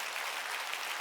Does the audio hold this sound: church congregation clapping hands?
yes